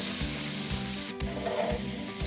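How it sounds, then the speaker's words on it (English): Batter-coated lotus stem pieces deep frying in hot oil, a steady bubbling sizzle heard close up, with a faint rhythmic background hum pulsing underneath and no speech. "Heat oil in a pan and deep fry them."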